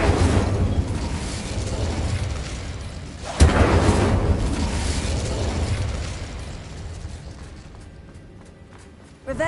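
The Incendio fire spell goes off in the Hogwarts Legacy video game as a loud, roaring burst of flame with a sharp boom partway through. The sound then fades to a lower rumble.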